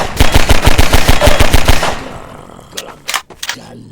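A rapid burst of automatic gunfire from the video game Half-Life 2 rattles loudly for about two seconds, followed by a few scattered sharp shots and clatters as the burst dies away.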